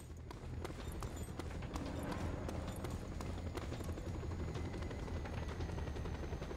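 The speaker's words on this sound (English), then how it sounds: "I'm sending a helicopter to pick you up." A helicopter in Just Cause 2 thumps with a rapid rotor beat over a dense, loud engine rumble. The sound is steady and close, with no speech.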